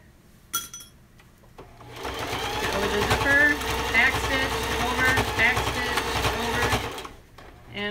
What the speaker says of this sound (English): Take a few stitches, back stitch, and we're off and running.